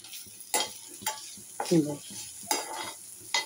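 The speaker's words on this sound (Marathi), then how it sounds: "आतां ती सोय भाजून घेता." Grated coconut and onion roasting in oil in a pan, with scattered scraping stirs and soft sizzling bursts at close range and no speech.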